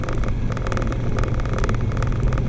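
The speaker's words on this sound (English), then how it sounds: "So this is going 40 miles an hour right now" Steady road rumble inside a car cruising at about 40 miles an hour with the windows up, a continuous low engine and tyre drone with faint broadband wind hiss, no talk in this stretch.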